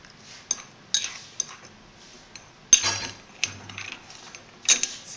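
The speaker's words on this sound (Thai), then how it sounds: "คนให้เข้ากันค่ะ จนน้ำตาลมันละลายหมดนะคะ" A metal spoon clinks and scrapes against a bowl while chili paste for nam prik is stirred until the sugar dissolves, giving a few sharp taps spaced irregularly over a quiet background.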